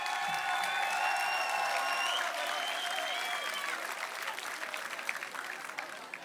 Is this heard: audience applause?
yes